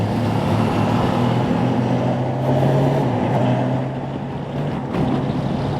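A motorcycle engine drones under rushing wind, its pitch stepping through a few quick, instant quick-shifter gear changes while riding at speed on a road trip from Hyderabad to Kanha National Park.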